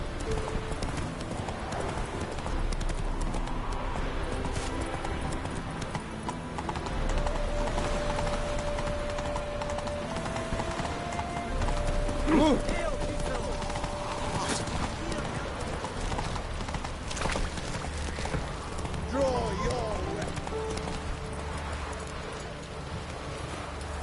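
Roach the horse gallops in The Witcher 3 with steady, rhythmic hoofbeats throughout, mixed with game sounds, a tonal chime and a character speaking.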